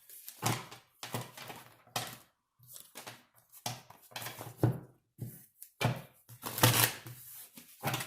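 Tarot cards are shuffled in a quick series of crisp riffling bursts with brief pauses between them, close and fairly soft.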